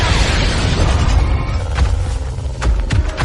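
Grenade blasts from a monster film set against a creature, heavy booming rumble filling the low end throughout, with a few sharper bursts and crackles near the end, loud and close with no voices.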